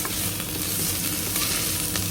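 Sambal chili paste frying in a pan as it thickens and dries, a dense, continuous close-up sizzle with faint crackles and scraping from stirring, no voices.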